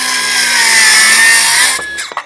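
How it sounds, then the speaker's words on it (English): A Milwaukee circular saw slices through material, running a loud, close, sustained whine whose pitch sags slightly as it bogs down, then winds down to quiet after about two seconds. "So let's make a couple slices and dices. You can hear that bogging down just a little bit."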